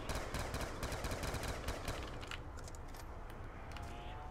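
Rapid automatic gunfire in Call of Duty Black Ops 2 Zombies on the Nuketown map, a fast rattling burst for about two seconds, then a few sparser shots trailing off, moderately quiet.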